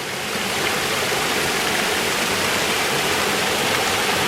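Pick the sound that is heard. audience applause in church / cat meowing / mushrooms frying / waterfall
waterfall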